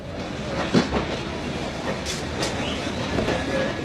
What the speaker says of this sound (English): The train is now sealed. It will pass all frontiers.